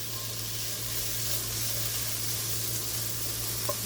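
Onions caramelize in a pan over low heat for stuffed acorn squash, giving off a steady, soft sizzle that stays even throughout, with a faint clink near the end.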